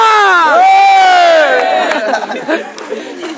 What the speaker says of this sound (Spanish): Un ruido para el Barba